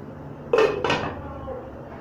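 A metal lid set down onto a cooking pot gives two quick close clanks in rapid succession over a low kitchen background hum.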